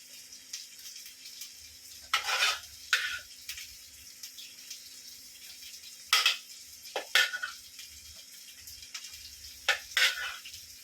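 Chicken frying on a tawa for a chicken tawa fry, with a steady low sizzle broken by several sharp scraping and clattering bursts of a utensil against the pan, close and fairly loud, with no talk.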